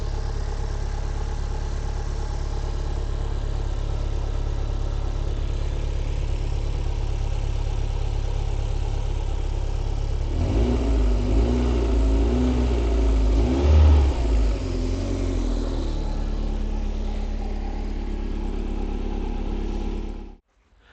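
A 1.6 litre K-Series engine in an MG TF idles steadily and smoothly up close, then revs up in a few quick blips midway before settling back to idle and cutting off at the end.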